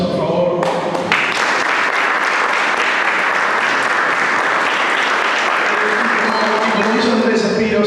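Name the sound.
audience applause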